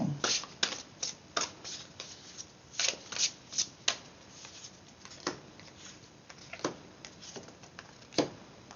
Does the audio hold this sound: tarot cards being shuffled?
yes